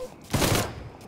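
Gunfire in Mafia III Definitive Edition: a single loud burst of shots around mid-clip, with broadband crack and low thump, fading into a short tail.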